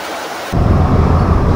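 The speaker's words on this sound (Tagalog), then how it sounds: "hataw na hataw pa rin ang malakas na pag-ulan" Heavy rain pours during a flood with a sudden deep thunder-like roar, a loud, dense wash of noise that swells abruptly and stays constant.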